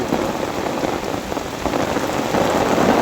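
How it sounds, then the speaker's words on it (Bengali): Monsoon rain falling outdoors during fishing with a current net, a loud, dense patter of drops striking surfaces close by, steady and growing slightly heavier toward the end. "ওরে বৃষ্টি লাগলো"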